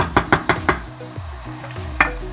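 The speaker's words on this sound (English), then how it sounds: "I'm gonna give it a little stir." Chicken lollipops frying in a pan for a restaurant-style dish, with a run of four sharp stirring knocks up front and another later, all over a steady sizzle.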